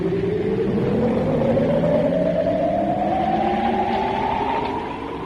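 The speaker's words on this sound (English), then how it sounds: "The thunder of a rocket echoed the storm." Thunder of a rocket created as a sound effect for a science-fiction audio drama: a loud, steady roar with a whining tone that climbs slowly in pitch over about five seconds, with no voices.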